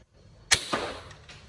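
A single sharp crack of a shot from a Tokyo Marui VSR G-Spec airsoft sniper rifle striking wood, followed by a quieter second knock and a brief fading rattle.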